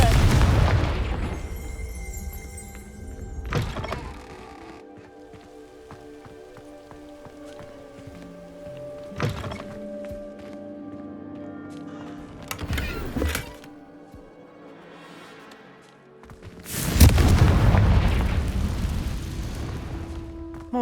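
Confringo blasting spell exploding in the video game Hogwarts Legacy, heard as several loud broadband blasts with rumbling tails spaced across a quiet musical game backdrop, the biggest burst near the end.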